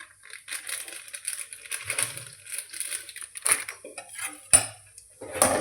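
Raisins tipped into a frying pan on low heat, a busy clatter of small dry pieces hitting metal with scattered crisp ticks and a few sharper clinks, close and fairly loud with no talking.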